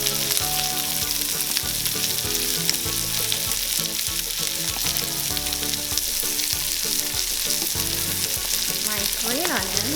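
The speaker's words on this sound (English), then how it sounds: "Now I'm gonna add my onions." Onions and garlic sizzle loudly in a pan as fried rice is cooked, a constant close crackle with occasional stirring, over a steady tonal backing of music.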